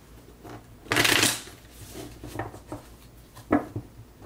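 A deck of tarot cards is shuffled in two quick riffling bursts, the first longer and louder and a shorter one near the end, close by in a quiet room with faint handling noises between.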